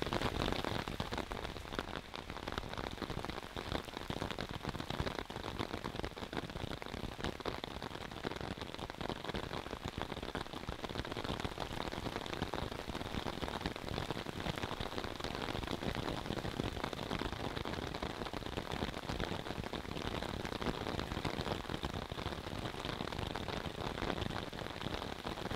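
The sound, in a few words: rain falling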